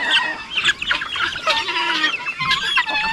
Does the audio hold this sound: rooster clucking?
yes